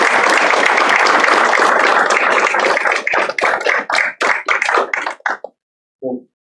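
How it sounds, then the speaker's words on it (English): An audience gives a final round of applause for students at a CTE letter of intent signing day at TCAT-Pulaski, loud dense clapping that thins into scattered claps and stops, with one last brief clap after a pause. "please give all of these students a final round of applause"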